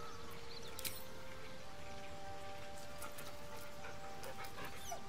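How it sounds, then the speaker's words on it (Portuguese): A big dog in Baldur's Gate 3 pants softly in a quick, steady rhythm, faint and close, with a low hum of ambient game music beneath it. "Olha, o cachorrão veio! E aí, cachorro?"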